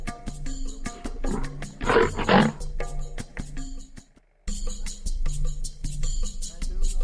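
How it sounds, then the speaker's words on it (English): A lion roars in a deep, loud rumbling burst over a background music bed, then the sound cuts briefly to silence before the music resumes. "The lion."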